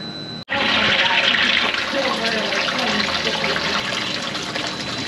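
Sparge water for a red ale brew pours steadily and forcefully into the mash after a brief click, a continuous rushing splash that eases slightly over several seconds.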